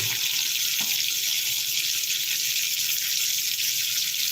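Fish frying in a pan in a home kitchen gives a steady, loud, hissing sizzle that carries on without a break the whole time.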